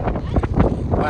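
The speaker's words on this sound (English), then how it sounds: "It is really windy out here" Strong wind gusting across a fishing pier, buffeting the microphone with loud, uneven rumbling bursts, while a voice speaks underneath.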